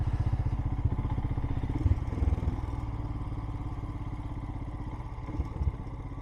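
A motorcycle engine chugs at idle nearby on the Balmoral estate by Crathie, a rapid, even low-pitched putter with occasional thumps and clatter.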